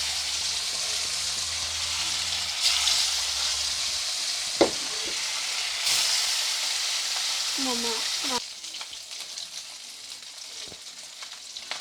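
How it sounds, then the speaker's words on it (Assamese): Fish sizzles and crackles steadily in hot oil in a home kitchen, a dense frying hiss with a few spatula clinks and scrapes; the sizzle drops quieter near the end as pieces are lifted out. "বাকী মাছখিনি মই এতিয়া ফ্ৰাই কৰি ল'ম"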